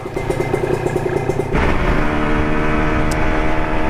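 A loud motorcycle engine, a model called the KR, idles with a steady throb and then jumps to a heavier, louder drone about halfway through that holds to the end, with no talking.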